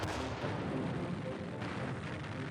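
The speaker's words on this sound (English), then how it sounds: "And the mortars started coming down." Mortar shells exploding during World War II fighting, a dense, heavy roar of blasts and rumbling booms packed close together, loud and continuous with no voices.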